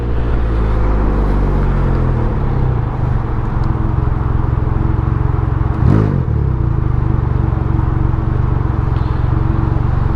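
A Can-Am Ryker fitted with a Silber Turbo Tunable exhaust runs loud and steady up close, its engine droning throughout with a brief surge and clatter near the middle.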